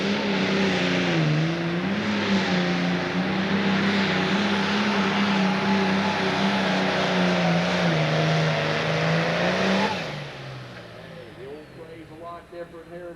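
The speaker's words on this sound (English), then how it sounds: "It's Ed Clark with the tractor he calls Red Hot." Pro Stock pulling tractor at a 10,000 lb class tractor pull in Connersville, Indiana, its engine roaring loud and steady with a rising, slightly wavering pitch for about ten seconds before abruptly dropping off to quieter sputtering; an announcer talks over it.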